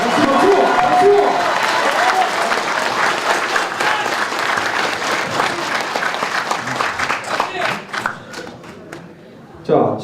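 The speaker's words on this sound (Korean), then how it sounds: "박수." A crowd at a New Year ceremony breaks into sustained applause mixed with cheering, loud and dense for several seconds before tapering into sparse claps, with voices mingled throughout.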